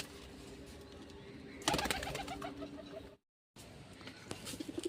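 Pigeon with a swollen nose from a tumour, cooing in repeated soft notes, with a busier burst of bird sounds and wing flutter midway, then a short silence before faint cooing resumes; no talk.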